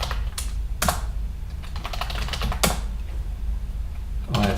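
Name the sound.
typing on a computer keyboard to log in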